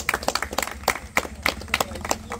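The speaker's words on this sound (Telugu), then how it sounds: "Okay claps." Several people clap their hands in a loose, uneven burst at a cricket tournament auction, the sharp slaps repeating irregularly at moderate loudness over a low background hum.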